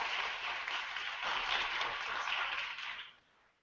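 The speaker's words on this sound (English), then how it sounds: "A huge round of applause to all of these incredible projects today, this weekend" An audience at a hackathon demo session at the MIT Media Lab applauds with steady, dense clapping for about three seconds before it quickly fades out.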